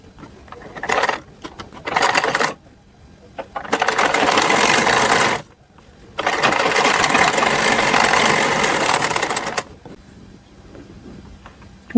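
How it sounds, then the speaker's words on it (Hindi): A sewing machine stitching small doll clothes for a Laddu Gopal figure runs in close, loud mechanical bursts of rapid rattling stitches, separated by brief pauses. "इसको अब हम इस तरीके से डबल फोल्ड करके सिल लेंगे"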